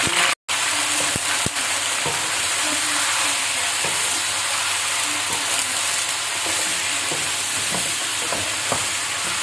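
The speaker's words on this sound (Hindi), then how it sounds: "चिकन देखें हमारा फ्राई होने पे आ गया है" Steady loud sizzling of chicken frying in hot oil in a pot, a constant hiss with occasional pops and a brief clatter near the start.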